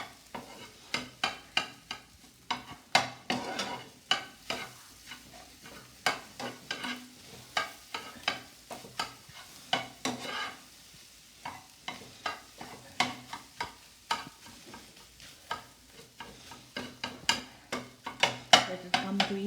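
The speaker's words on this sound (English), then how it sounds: "Reduce the flame. Scramble the egg." Egg scrambled in a hot pan for fried rice makes quick, repeated scraping and stirring strokes over a soft sizzle, with close-up clatter of a spatula against the pan at an irregular, busy rhythm.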